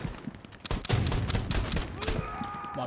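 Rapid bursts of gunfire in the video game Hell Let Loose crackle in quick succession, loud and close, with a few faint voice fragments in the mix.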